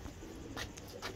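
Pigeon softly cooing in a breeder's loft, a faint low murmur with a couple of brief swells over background hiss.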